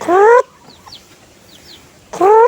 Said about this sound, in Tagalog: Tawagin natin yung ibang manok